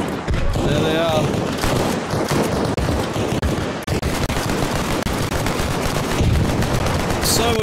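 Sustained bursts of M60 machine gun fire ring out during a large battle in Arma Reforger, loud and close, rattling on almost without pause with a few brief gaps.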